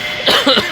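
A person coughs a couple of times close up, a short rough burst amid a quiet background.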